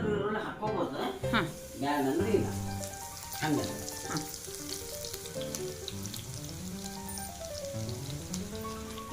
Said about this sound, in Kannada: ಈಗ ಜೀರಿಗೆ ಚಟಪಟ ಅಂತ ಇದೆ